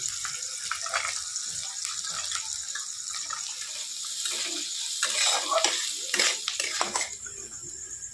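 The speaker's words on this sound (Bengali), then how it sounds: "এবারে আমি প্রথমে কিন্তু একটু গাজরটা ভেজে নেবো।" Carrots frying in a pan for pasta, a close hissing sizzle with repeated scraping and stirring clatter, louder bursts in the middle, no talk over it.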